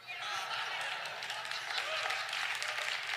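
A church audience breaks into applause, a dense, steady wash of clapping that fills the room for several seconds with no pauses.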